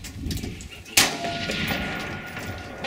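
A .22 caliber rifle fires a single sharp shot at a shooting range, a fairly quiet crack with a short ringing tail, surrounded by faint outdoor background noise.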